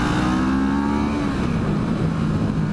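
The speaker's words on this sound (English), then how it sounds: "The engine is a 650, obviously from the name. It's a inline 2-cylinder." A CFMOTO 650NK inline two-cylinder engine runs steadily with a rough, throbbing mid-range tone, held close and loud on the move without any talk.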